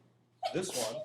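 A sudden, loud sneeze bursts out in a classroom right after a person speaks a couple of words.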